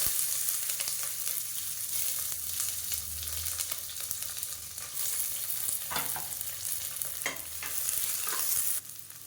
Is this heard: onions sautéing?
yes